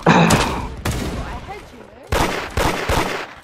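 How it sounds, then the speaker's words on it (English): Bursts of gunfire from the Roblox game Da Hood come in several sharp loud volleys with pauses between, and a voice chatter plays faintly under the shots. "I think Mart is shooting me again."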